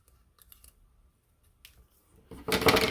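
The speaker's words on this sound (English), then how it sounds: "Then you can take scissors and cut a swallow's tail into the paper just by grabbing it at each end." Scissors snip into paper for a swallow's-tail cut: a few faint, soft clicks early on, then a louder, close crisp burst of cutting at the end.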